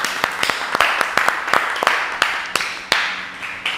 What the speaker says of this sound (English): Let's give Aris a big round of applause